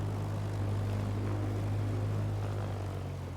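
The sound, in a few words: Piper propeller aircraft engine while taxiing, from a flight simulator video game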